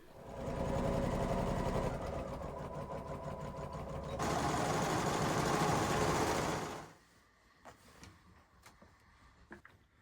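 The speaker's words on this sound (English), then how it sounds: "I'm going to go ahead and sew that with a 1/2 inch seam allowance and finish it" A sewing machine runs steadily as it stitches the back seam of pleated trousers, a fast, close mechanical whir that pauses briefly, resumes louder, then stops, followed by a few soft handling clicks.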